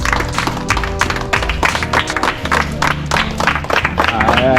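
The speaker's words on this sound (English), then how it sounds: "So, I could give back among us a round of applause." A crowd claps in a dense, lively burst of applause, with voices mixed in and the clapping continuing throughout.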